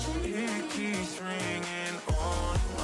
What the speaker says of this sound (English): They take up the last 4 kick drums at the end of the phrase.